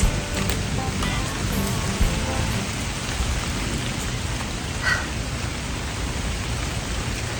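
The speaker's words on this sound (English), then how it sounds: "This is the first rainstorm that we've had in so many days." Heavy rain pours down outdoors in a rainstorm, a dense, steady hiss of falling water with a few louder drops and spatters, no voices.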